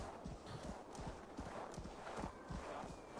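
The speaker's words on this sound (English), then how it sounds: "Keep forgetting we have a horse" Galloping horse hooves pound in quick, uneven clusters in Assassin's Creed Valhalla, close and fairly loud over a constant bed of wind-like ambient noise.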